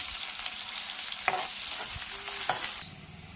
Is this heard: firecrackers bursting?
no